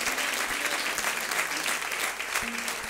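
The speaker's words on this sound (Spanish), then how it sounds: "un aplauso al Señor y gloria a Dios" A congregation at a church anniversary service claps together in praise, a sustained and even round of applause from a full room, moderately loud, with a few low thuds underneath.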